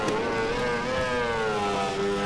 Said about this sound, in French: c'est le meilleur bruit qu'ils aient fait depuis longtemps sur un jeu de moto